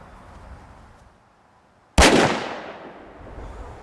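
A single sharp, loud gunshot from a .50 caliber Alaskan hand cannon fired into cinder blocks, cracking out after a quiet lead-in and ringing down over about a second.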